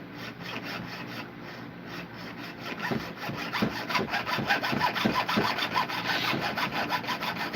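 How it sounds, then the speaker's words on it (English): A jeweller's saw cuts metal at a silversmithing bench, giving a steady, rhythmic rasp of quick strokes that grows a little louder and more regular, close up with no talking. "while I'm sawing metal"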